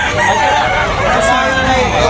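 A fighting rooster for sale at a busy poultry market in Tabunok, Talisay crows loudly amid dense crowd chatter.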